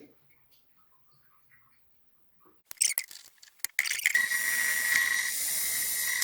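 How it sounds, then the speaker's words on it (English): Electric drill boring a 1/2 inch hole through a steel plate, starting from a pilot hole: a few short bursts give way to a steady, loud high-pitched whine and grind that runs alone to the end. "We pilot drilled it a little bit so that we could start our bigger drill."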